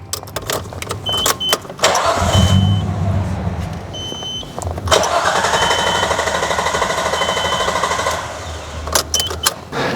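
A Nissan R32 Skyline GTST with its fuel pump fuse pulled cranks repeatedly without starting, the starter whirring in rhythmic chugging bursts close up, broken by pauses, clicks and a dashboard chime.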